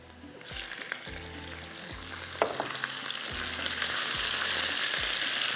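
Chicken pieces frying with whole spices, cumin and black pepper in a pot, a continuous hissing sizzle that swells louder over time, punctuated by repeated scraping stirs and a sharp clank.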